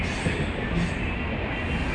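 A moving train rumbles on as a steady, dense roar with constant rattling, heard from inside the carriage at close range, with no talking.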